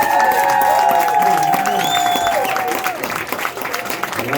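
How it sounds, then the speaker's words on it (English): An audience claps and cheers for a hip-hop performer at a live soul session, loud applause mixed with a sustained tone and crowd noise that thins out toward the end. "clap it up for Milz."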